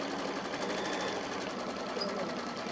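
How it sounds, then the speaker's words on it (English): An embroidery machine runs a straight stitch around appliqué fabric laid on a quilted placemat, a steady, even mechanical whir that carries on throughout without a break. "it's going to do the straight stitch around it"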